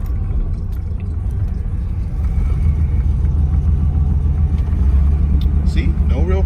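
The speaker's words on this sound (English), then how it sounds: "The van runs and drives and totally functions." A used van's engine idling after a cold overnight start, a steady low rumble running throughout with a slight rise in revs toward the end, a person talking over it.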